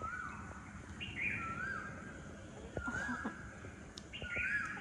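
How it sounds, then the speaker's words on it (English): Outdoors, a bird sings faint, rising chirps and short warbled phrases several times, heard at a distance over quiet background hiss with no talk. "And the bird is singing in the background."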